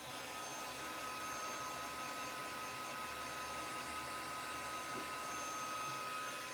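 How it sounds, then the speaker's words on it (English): A heat tool blows hot air for foiling work, making a steady close whoosh and hum that holds evenly throughout with no talk. "So I'm going to heat up my heat tool."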